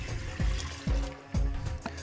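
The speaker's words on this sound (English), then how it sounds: "And now we will add the water," Water is poured into roasted rice and dal in a pot for pressure cooking temple sweet pongal, heard as three close, repeated splashing gushes with short gaps of trickling between them.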